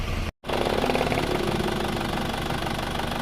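A car engine, freshly overhauled and run on a test drive, keeps up a steady, even mid-pitched running drone with a fine mechanical chatter, loud and close, broken only by a split-second dropout near the start.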